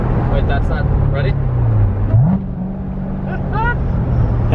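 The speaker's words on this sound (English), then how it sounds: "That's all naturally rev matching." New Corvette Z06 downshifting, with its engine drone dropping and then blipping upward as it rev-matches on its own, then holding a steady higher note. Voices talk over the engine.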